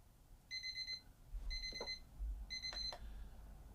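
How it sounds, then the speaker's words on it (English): An alarm beeps in three clear bursts of repeated high electronic tones about a second apart, fairly close, with a low background hum and no talk. "that's an alarm, so I may have to get up in a second and just go check on something."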